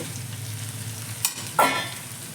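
Hing dropped into hot oil while a sabzi cooks: a low steady sizzle, then a short sharp crackle and a louder burst of frying that quickly settles back, close by with no voices.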